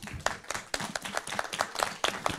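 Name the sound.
audience applauding the team in live show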